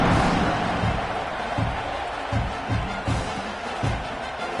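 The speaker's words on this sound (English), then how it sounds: "this crowd is buzzing after that last score" A football stadium crowd at an Oklahoma vs Texas A&M game buzzes with a dense, steady roar after a touchdown, with faint rhythmic thumps underneath and no clear commentary.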